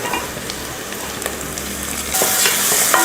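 Onions and tomatoes sauté in a hot pan, a continuous close sizzle with stirring scrapes that grows brighter and louder toward the end.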